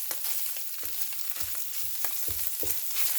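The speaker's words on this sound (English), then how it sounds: "what we're going to add is a block of cream cheese, and it's still pretty cold. But you're going to stir this up" Cold block of cream cheese stirred in a hot pan, a steady frying sizzle with a spoon scraping and squishing in repeated rhythmic strokes, close and fairly quiet with no talking.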